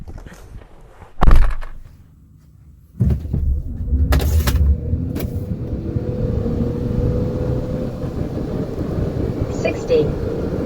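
A Nissan Serena C28 minivan accelerates hard from a standstill toward 100 km/h, its engine note rising in a steady building drone after a door thunk and a brief pause, heard from inside the cabin.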